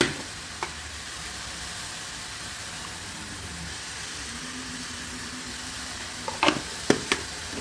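Turmeric and chili powder being stirred into bottle gourd and shrimp frying in a pan: a steady soft sizzle throughout, with a few sharp spoon scrapes and clanks toward the end.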